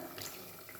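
Water poured into dal while cooking dal-bati without a pressure cooker, a brief steady rushing splash heard alone and close.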